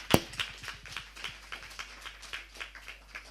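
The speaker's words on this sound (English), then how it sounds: "Round of applause for our moderator and our panelists." Sparse applause for a moderator and panelists at a climate change panel event, a few scattered hand claps, faint and irregular, fading over a few seconds.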